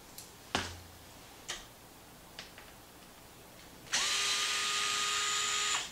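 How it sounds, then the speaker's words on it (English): A power screwdriver removes 2.5 screws from a Traxxas Maxx RC truck bumper: a few sharp ticks and clicks, then a short, loud, high drill whir for about two seconds, close up. "Let's go ahead and pull those out and get that bumper out of the way."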